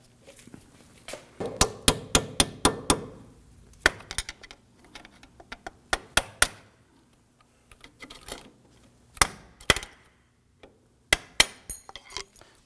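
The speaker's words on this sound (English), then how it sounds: "remove this retainer clip here that's holding the brake flex hose. I'm going to use my pick here." A metal pick works at the retainer clip holding the brake flex hose on a 2008-2011 Ford Focus front strut, giving sharp metallic clicks and taps in scattered bursts, some in quick runs, close and without talk.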